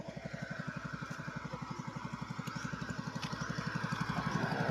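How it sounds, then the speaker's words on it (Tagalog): A noisy generator running during a power outage chugs in a steady, rapid pulsing rhythm that holds throughout and grows slightly louder toward the end, with faint background sounds over it. "Maingay yung generator kasi walang kuryente dito."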